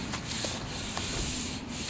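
A hand rubbed across the hood body panel of a 1954 Chevy pickup, giving a steady, close rubbing and swishing sound for about two seconds with no voices over it.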